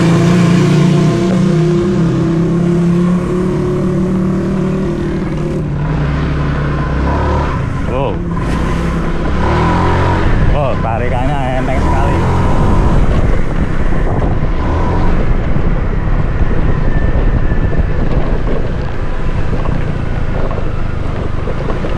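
Honda Vario 125 scooter after an ECU remap, engine accelerating from a start and pulling hard while riding, loud and continuous with wind rush, a voice talking over it.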